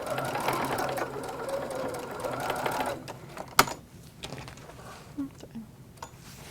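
A sewing machine back stitches to lock the threads at the end of a tote bag seam, running as a fast steady whir for about three seconds before stopping, followed by a sharp click and quiet handling.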